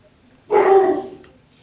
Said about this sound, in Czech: A on štěká, bo se mu něco nelíbí.